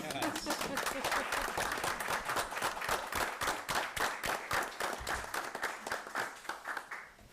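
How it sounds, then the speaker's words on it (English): Applause at a school board meeting welcoming a new interim superintendent: a roomful of people clapping steadily in dense, irregular bursts, fairly close and sustained, with a few voices mixed in. "I think, board, this is a time to applaud"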